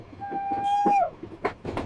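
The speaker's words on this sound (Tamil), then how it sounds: "ஊட்டி வந்த இந்த டாய் ட்ரெயின் மட்டும் மிஸ் பண்ணிரட்டீங்க" A Nilgiri toy train running toward Ooty gives a sustained whistle tone lasting under a second, followed by rumbling carriage noise and short bursts of wheel and track clatter.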